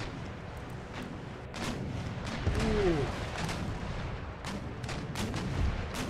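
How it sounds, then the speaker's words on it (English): A ship's cannon fires chain shot in a naval battle in Empire: Total War, heard as a mid-distance boom amid a busy wash of battle noise and scattered distant cannon reports, with faint talk over it. "This ship up front can fire round shot, no,"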